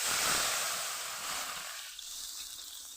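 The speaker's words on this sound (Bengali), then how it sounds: "তো পরিমাণ মতন জল দিয়ে দিলাম" Water poured into a hot pan for a rohu fish curry with turmeric and salt, a loud broad hissing sizzle that eases and thins out over a few seconds.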